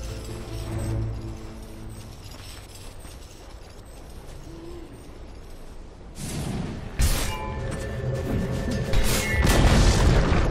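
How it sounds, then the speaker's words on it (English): Tower under attack in the Dota 2 video game, clanking mechanical hits and booming impacts over a dense game soundscape, growing louder and busier in the second half with repeated sharp strikes. "Dire's top tower is under attack."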